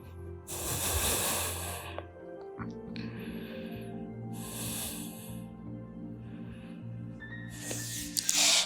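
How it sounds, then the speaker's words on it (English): Deep breaths held in child's pose during a Pilates yoga physical therapy routine, three loud, close breathy rushes of air separated by pauses, over a low steady hum. "And hold this in 3 deep breaths."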